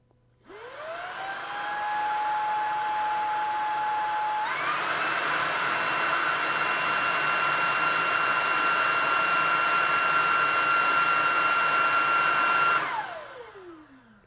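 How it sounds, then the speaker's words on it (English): Dyson V15 and Shark Vertex Pro cordless stick vacuums running together in boost mode, a steady loud motor whine that spins up, steps higher in pitch partway through, holds, then winds down at the end. "And here comes the boost mode on both of these vacuums."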